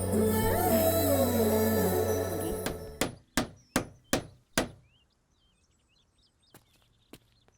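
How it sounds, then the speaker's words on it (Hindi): Five sharp hammer blows in a steady rhythm ring out, followed by a couple of isolated knocks, after a stretch of busy background noise fades away. "इतना शोर क्यों मचा रहा था? यह हथौड़ा किस लिए?"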